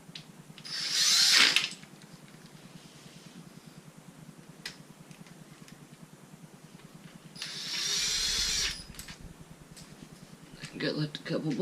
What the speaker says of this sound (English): The impact will do the work for you.